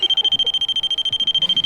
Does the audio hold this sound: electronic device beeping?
yes